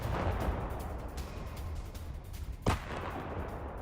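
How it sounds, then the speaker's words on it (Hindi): A Ukrainian self-propelled howitzer fires shells in the Russia–Ukraine war, one sharp, heavy report standing out over a steady rumbling background. "जंगलों में छुपी रूसी फौज का काल बनी यूक्रेन की होत्जियर तोप रूसी फौज पर गोले बरसा रही है।"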